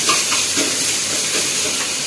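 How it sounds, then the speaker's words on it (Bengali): Onion, ginger and garlic frying lightly in a pan give a steady, close hiss of sizzling oil that runs unbroken for about two seconds, with faint soft stirring underneath. "তো পেঁয়াজ আদা রসুনটা হালকা করে ফ্রাই করে নিয়েছি"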